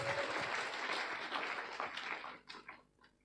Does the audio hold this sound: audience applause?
yes